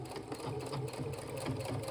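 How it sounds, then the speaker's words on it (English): Sewing machine top stitching a folded pant hem in coordinating thread, running steadily and close up with an even mechanical whir and no pauses. "now we're at the sewing machine"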